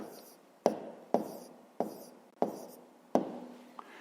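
Pen writing out the answer to a fifth-grade math problem on paper, five sharp taps each followed by a short scratchy stroke in a steady rhythm, close and fairly quiet.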